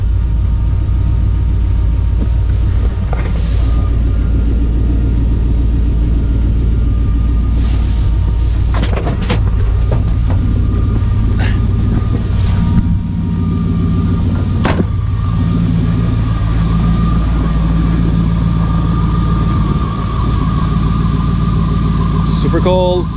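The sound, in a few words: LS-swapped Chevrolet C10 truck engine idling after cold start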